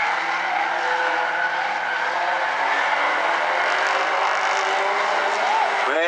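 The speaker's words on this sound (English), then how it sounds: "This is a 20-lap main event championship race for the Cut Rate Auto Parts Stinger 8s." Stinger 8 race cars in a 20-lap main event at South Sound Speedway, a continuous blended engine roar from the pack with a brief tire squeal near the end, steady and fairly loud.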